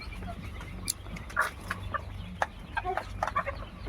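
A local farm hen broods her clutch of about fifteen eggs, giving a few soft, scattered clucks close by over faint background noise.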